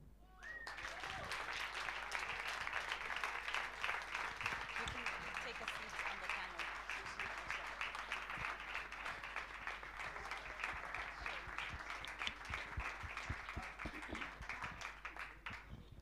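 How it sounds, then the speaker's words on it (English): Audience applause at a global CEO summit, a sustained crowd clapping that swells quickly and holds strong and even for a long stretch, with a voice heard faintly over it. "A round of applause one more time."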